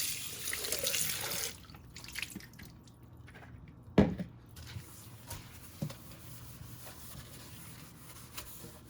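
Water runs in a kitchen sink while a bowl is washed, with a brief hiss of flowing tap water at first, then quieter drips, splashes and soft clatter nearby.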